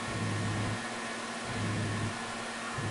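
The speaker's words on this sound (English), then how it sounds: "We can ever so slightly hear Esco's engine noise behind us" Engine note of an opponent's car in a stunt racing video game, a steady mid-pitched hum with shifting tones as it closes in from behind, heard alone without talk.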